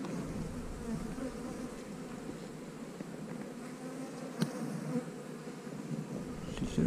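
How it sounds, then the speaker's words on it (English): Bees buzz steadily around a frame pulled from a hive box on a farm, a continuous close drone with a brief louder knock partway through and no talking. "We were showing the progression of the sizes of the bees."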